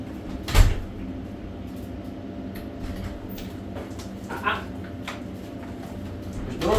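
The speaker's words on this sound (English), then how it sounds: "And I'm going to open the door quickly." A door is yanked open quickly during dog threshold-manners training, giving a sharp thump near the start and a softer knock a few seconds later over a quiet indoor background.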